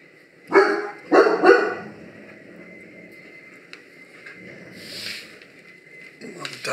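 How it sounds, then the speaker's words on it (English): A dog barks a few times, loud and close at first, then things settle into a quiet background with a faint hiss and a soft later rise. "Dog's barking at"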